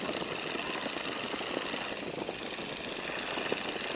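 A light aircraft's engine drones steadily after being throttled back to 1,700 RPM, a continuous broadband roar that holds at one level for the whole stretch with no voices over it.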